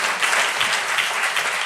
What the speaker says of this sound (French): Je vous demande d'applaudir Ali Rabet, maire de Trappes